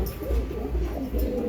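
Tournament-flown racing pigeons coo in low, repeated throaty calls close by, a few overlapping coos in quick succession.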